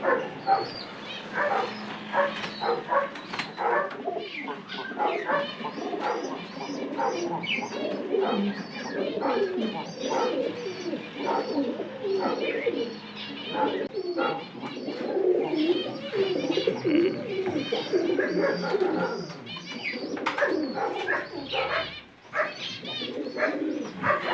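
Pigeons of old bloodlines cooing in a loft, their soft, throaty calls overlapping throughout, with a dog barking intermittently nearby and occasional faint voices.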